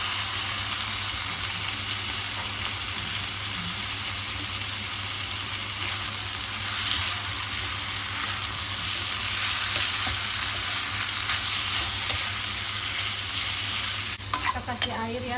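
Goat meat for tongseng frying in spiced paste in a pan, a steady close sizzle with scraping stirring strokes throughout, louder toward the end.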